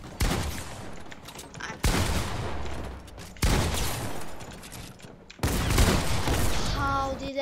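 Weapons firing in a Fortnite creative 1v1 build map, four loud separate volleys each followed by a decaying tail and a brief pause, with a player talking faintly between them.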